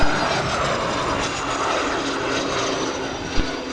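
A steady, loud aircraft engine roar at Spirit of St. Louis Airport, a broad droning rumble with a high whine that holds for several seconds, with a brief thump near the end.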